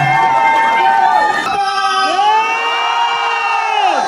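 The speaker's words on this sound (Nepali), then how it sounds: "अभिरामज्यूलाई एकपटक सबैले जोरदार ताली र हल्लाले सम्मान व्यक्त गर्नुहुन्छ" Crowd at a live music concert cheering and whooping in a loud continuous roar, with high shouts and screams rising over the din and an announcer's amplified voice mixed in.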